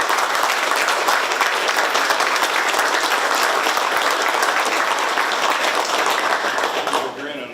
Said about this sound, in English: You guys need to give him a big round of applause too